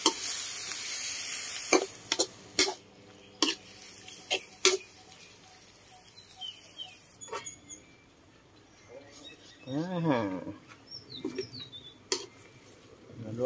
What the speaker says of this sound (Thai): ผมผัดเนื้อก่อนครับ น้ำมันเนื้อออกมานะครับ